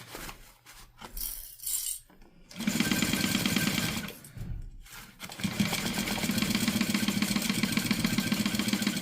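A sewing machine runs in two bursts of rapid, steady stitching along a seam, close and loud, separated by a short pause with light handling noise.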